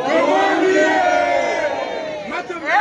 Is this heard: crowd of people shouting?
yes